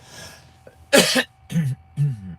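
Three short, harsh coughs come one after another, the first loudest, against a quiet background.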